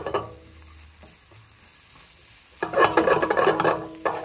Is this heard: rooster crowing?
no